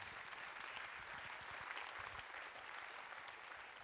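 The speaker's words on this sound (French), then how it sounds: "Merci de les applaudir." Audience applause at a festival opening ceremony, steady and dense clapping throughout, heard from a distance at a low level.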